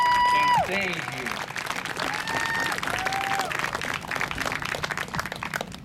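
A rally crowd in Loudoun County applauds steadily with some cheering, while a voice speaks briefly at the start over the clapping.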